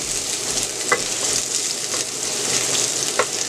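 Onions sizzle and fry in a hot skillet for Thai basil chicken, a steady close crackling hiss with a few sharper pops, no talking.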